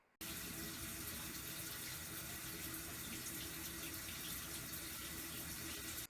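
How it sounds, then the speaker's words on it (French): Shower water runs in a steady, close, full hiss that starts abruptly and keeps going unbroken for about six seconds, with no voices. "Je me douche."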